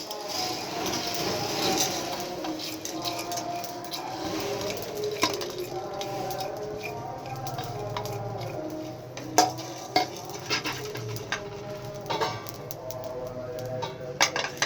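Whole spices, shahjeera, ajwain and black pepper, are dry-roasted over low heat in a frying pan, giving a soft rustling stir with faint sizzle. A spoon clinks sharply against the pan several times in the later part.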